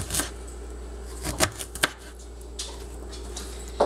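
Knife chopping fresh ginger on a cutting board for chai tea, a few sharp irregular clicks and taps close by against a quiet room.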